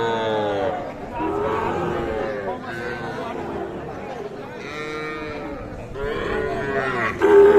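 Sahiwal heifers low and moo repeatedly at a busy cattle market, their calls rising over a steady murmur of crowd chatter and nearby voices.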